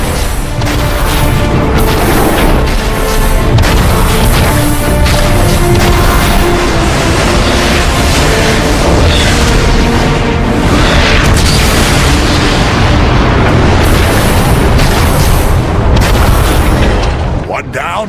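Loud, continuous explosions and booming impacts erupt as a warp cannon is destroyed in the Transformers: Fall of Cybertron video game, dense and overlapping for the whole stretch with voices talking over the blasts.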